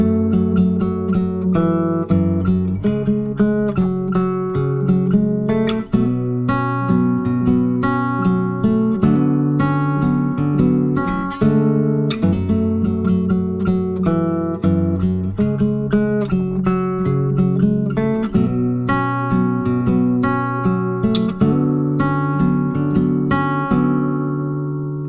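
A fingerstyle acoustic guitar plays the verse of a song alone, with steady plucked bass notes and picked chords in an even, moderately paced rhythm, close and clear.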